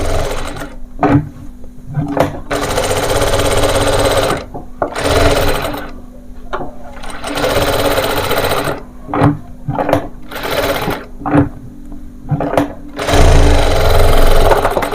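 A sewing machine stitches a baby frock in close, loud runs of rapid mechanical clatter, stopping and starting several times with brief pauses between seams.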